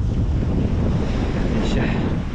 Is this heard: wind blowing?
yes